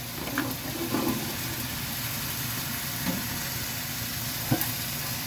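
Cut string beans and squash land in a hot pan for ginataang kalabasa, a steady low sizzle and frying hiss running throughout with a few soft knocks of stirring, no talking.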